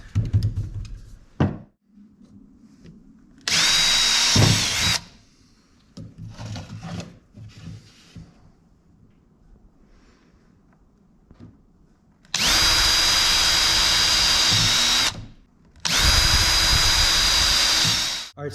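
Power drill driving screws to mount a PVC mount onto a garage shelf, three loud whirring bursts of a few seconds each, separated by quieter handling clatter and small knocks.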